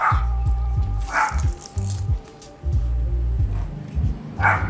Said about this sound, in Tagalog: Ano ba naman tong aso na to?